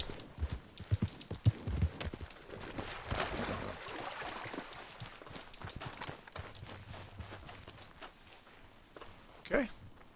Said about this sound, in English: I'm going to move my horse right out of the way.